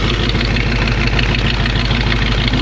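A 1968 AMX with a slight miss idles steadily and loudly nearby, its engine producing a constant low rumble with an even, slightly uneven pulsing throughout and no talking.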